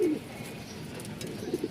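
Pigeons in a breeding loft coo softly, a low throaty call at the start and another near the end, with faint background noise between.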